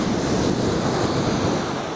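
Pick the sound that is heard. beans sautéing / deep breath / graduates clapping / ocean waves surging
ocean waves surging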